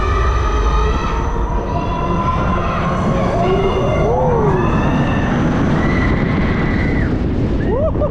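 Amusement park ride at Vulcania rumbling loudly and continuously on its track, with rising and falling squealing tones and steady mechanical roar throughout, no talking.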